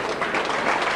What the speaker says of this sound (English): Sympathetic applause from this large crowd here at Nosey Road